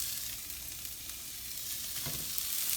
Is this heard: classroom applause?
no